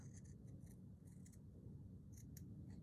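Scissors snipping out a small stitched fabric piece for a slow-stitch village scene, giving a steady run of soft, close cuts with faint metallic clicks over a low background hum.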